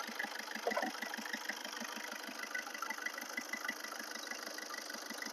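A 2017 Maruti Swift Dzire VDI diesel engine idles close by with a steady, rhythmic clatter of evenly spaced pulses, heard alone without any talk.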